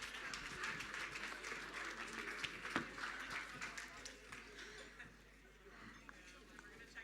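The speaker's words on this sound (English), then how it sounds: "Please give them another wonderful round of applause." Faint applause from an audience at the Women in Tech Africa Awards ceremony, a steady, even patter of many hands clapping that fades slightly toward the end.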